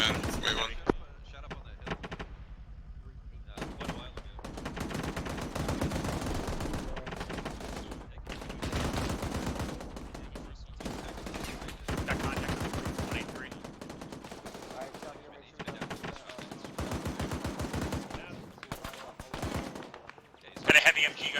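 Bursts of machine gun and rifle fire during platoon training, sharp distant reports in irregular clusters separated by quieter gaps, with voices talking over radio in between.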